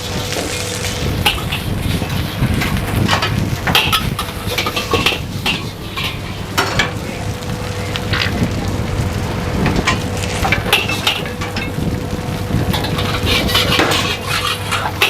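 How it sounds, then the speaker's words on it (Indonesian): Metal utensils scrape and clatter rapidly against a hot wok while four portions of Singapore fried rice are stir-fried at a busy food stall, over a constant sizzling roar and a low steady hum. "Di sini gue lagi ngerjain nasi goreng Singapura 4 porsi"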